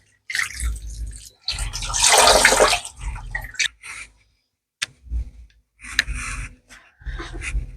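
Black beans are rinsed under running water from a tap, with bursts of gushing and splashing that rise and fall between short pauses and clatter, up close and fairly loud.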